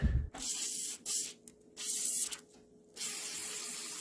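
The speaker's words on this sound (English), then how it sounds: "Alright, we're gonna start with WD-40." Several hissing bursts of WD-40 sprayed from an aerosol can around a car's starter relay area, close and loud, with brief pauses between the sprays and one longer spray at the end.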